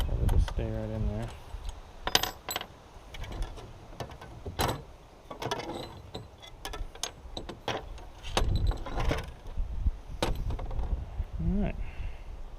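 Small metal nuts for a silent wind generator clink and tap as they are pressed into capture holes, a string of light, close metallic clicks scattered among handling noise, with someone speaking at times.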